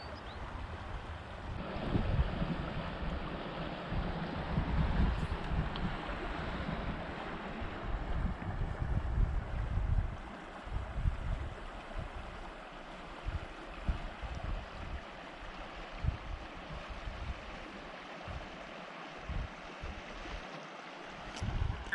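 A pristine Alaskan stream rushes toward rapids in a steady, broad wash of water, muffled by gusts of wind buffeting the microphone, with no voices present.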